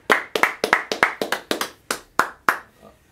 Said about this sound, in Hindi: pehle to bahut bahut taaliyan hai is bachche ke liye